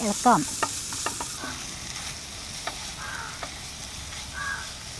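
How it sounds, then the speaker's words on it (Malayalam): Sautéed tomatoes with turmeric powder being stirred in a pan, with a faint sizzle and sparse spatula scrapes and clicks; a bird calls briefly nearby. "ഇതാ നല്ല നാടൻ മഞ്ഞൾപ്പൊടി. ഇളക്കാം."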